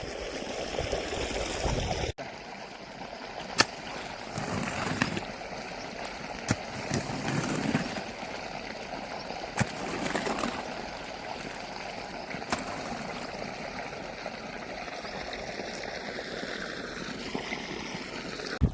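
Irrigation water runs steadily into a village field bed, a continuous trickling, gushing flow close by with a faint engine-like hum beneath and a few sharp clicks.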